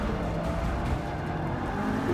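A 661-horsepower race car engine in the Forza 7 racing game roars loud and steady throughout, a continuous close-up drone with no talk over it.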